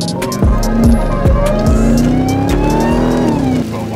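A Jeep engine hums steadily up close with rising and falling revs, and gear-like shifts and road noise run underneath, driving in the rain.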